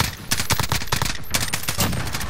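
Rapid video game gunfire in a Call of Duty Verdansk match, a dense stream of automatic shots and cracks that starts after a brief lull and keeps hammering loudly to the end.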